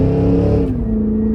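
A supercharged 2024 Cadillac Escalade V-Series engine pulls hard under acceleration, a loud, steady low roar with a deep harmonic drone that dips slightly in pitch mid-way, heard from inside the cabin.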